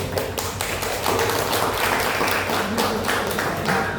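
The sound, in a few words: audience clapping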